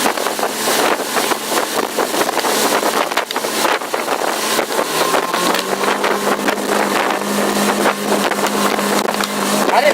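A 2007 Bennington 2250 RL tritoon pontoon boat running at speed on open water, with steady loud engine drone, rushing water and heavy wind buffeting the microphone throughout, a low engine tone rising in the second half.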